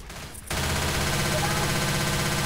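Rapid automatic gunfire from the Left 4 Dead zombie shooter game starts abruptly after a half-second pause and continues as a dense, loud, sustained rattle with no talking over it.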